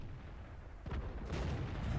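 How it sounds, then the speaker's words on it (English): Artillery fire in the World of Tanks video game: a single sharp boom lands about a second in, with a rumbling tail and further rolling blasts after it against quiet game background. "And there's some artillery right there too."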